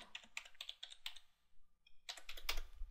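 Password typed twice on a computer keyboard during SQL Server application security setup: quick bursts of clicking keystrokes close by, with a short pause midway before typing resumes, no voices.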